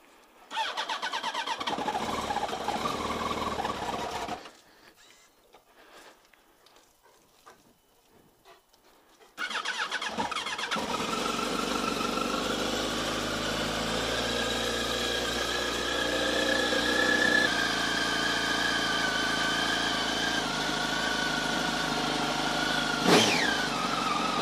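A motorcycle engine is started in a snowy setting; after a brief quiet gap it catches and settles into a steady, loud idle that runs on without pause.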